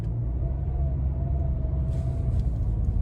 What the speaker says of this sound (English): So I come to a complete stop and I just give some gas.